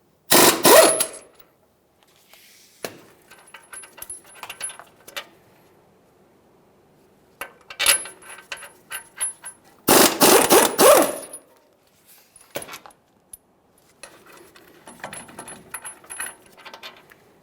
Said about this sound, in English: you have two 21mm headed mounting bolts to remove. We'll start by removing the upper one